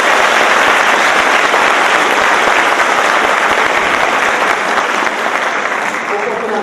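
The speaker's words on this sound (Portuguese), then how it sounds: "eu gostaria de dar uma salva de palmas para esse" Sustained applause from an audience at a Brazilian education debate event honoring the organizing team, steady dense clapping throughout, loud and close, tapering slightly near the end.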